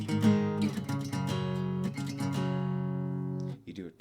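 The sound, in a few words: guitar strumming the rhythm of a song part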